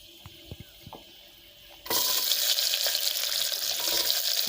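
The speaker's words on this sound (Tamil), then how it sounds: "பாருங்கள், வெங்காயம் வதங்கிக்கிட்டு இருக்குது." Onions dropped into a pan with cinnamon, cloves and cardamom start a loud, steady sizzle partway through, after a few quiet clinks and taps, then keep frying densely close up.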